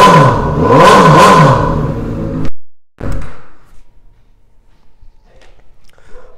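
A 2006 Honda CBR1000RR Fireblade with an aftermarket exhaust and a Power Commander 5.2 revs loudly and up close in rising and falling sweeps. The engine cuts off abruptly, a heavy thunk follows, and then near quiet with faint knocks.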